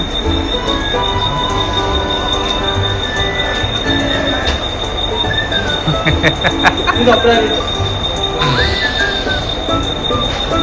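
A train rumbles steadily along the rails at Kasara railway station, wheels screeching high and shrill, with faint voices in the background.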